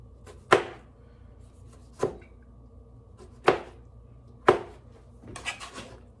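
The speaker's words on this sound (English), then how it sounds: "after finish chopping the 12 tomatoes" A knife chopping tomatoes for pico de gallo on a board, five distinct crisp chops spaced about a second apart, then a quicker cluster of lighter cuts, close and fairly quiet.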